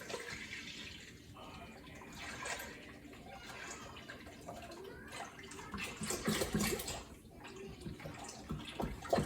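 A whole gallon of milk pours steadily into an Instant Pot for yogurt, a continuous liquid splash and gurgle that swells louder toward the end.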